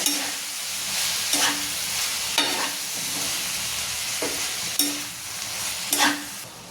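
Spring onion greens are stirred in a sizzling pan, with a steady frying hiss and repeated scraping strokes of the spatула roughly every second, close and clear, with no voices.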